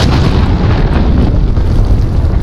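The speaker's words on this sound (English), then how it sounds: "Allied cruise missile away" Cruise missile explosion in Call of Duty Modern Warfare, a loud, sustained rumbling blast filling the whole moment with deep booming roar and crackle, close and overwhelming, with no voices.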